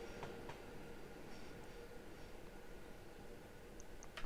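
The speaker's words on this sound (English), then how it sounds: "Bye bye train." A British Rail Class 390 train on the West Coast Main Line passes at a distance as a faint, steady rumbling wash of rail noise with no talk.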